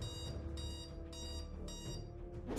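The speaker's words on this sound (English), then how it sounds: "That's my alarm clock going off," An alarm clock goes off during a Disciples 2 gaming recording session, ringing in about five evenly spaced, fairly loud bursts while a man briefly apologises over it.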